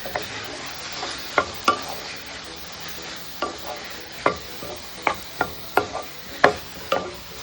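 Onion and tomato sautéing in a pan, a soft continuous sizzle punctuated by irregular sharp spatula knocks and scrapes against the metal, growing more frequent toward the end, with no talking.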